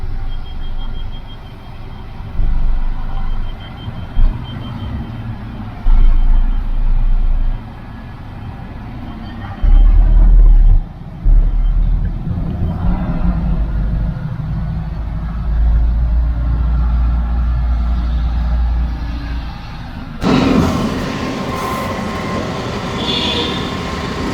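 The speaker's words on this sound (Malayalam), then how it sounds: "ഇനി നമുക്ക് വണ്ടി ഒന്ന് ഓടിച്ച് നോക്കി" A Leyland tipper truck with an automated manual transmission rumbles along with a deep, steady engine drone, punctuated by low thumps and bumps from the road, ending in a brief rattle.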